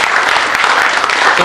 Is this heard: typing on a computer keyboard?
no